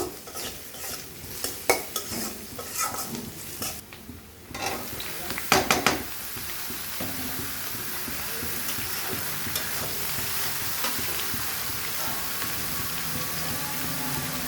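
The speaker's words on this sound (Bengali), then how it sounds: "মাছ ভাজা তেলে কালো জিরা ফোড়ন দিয়ে দেই। কালো জিরা ফোড়ন দিয়ে পেঁয়াজ দিয়ে দিছি।" Onions fry in fish-frying oil tempered with black cumin, a loud continuous sizzle with bursts of stirring, scraping and utensil clatter early on, settling into steady frying.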